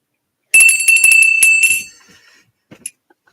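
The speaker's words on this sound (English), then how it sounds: "And it has this other little bell." A small thrift-store bell with a rose design rings with a bright, tinkling burst of rapid strikes that quickly decays, followed by a couple of faint, isolated jingles, heard up close with no talking.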